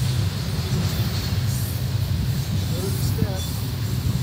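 A CSX mixed freight train rolls past at Berea, Ohio, giving a steady loud rumble and rail noise throughout, with a couple of faint squeals near the end.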